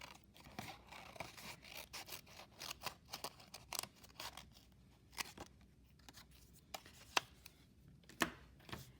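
Scissors snipping through paper to cut out a paper arctic fox tail for a children's craft, a quiet, irregular series of close, crisp snips with pauses between cuts.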